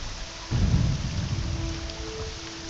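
Thunderstorm in the Morrowind video game: a sudden low rumble of thunder swells over steady hissing rain, then rolls on as a softer grumble beneath the downpour.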